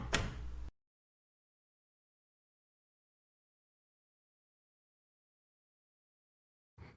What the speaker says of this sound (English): there's a sudden closure of the door